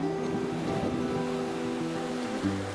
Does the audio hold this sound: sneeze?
no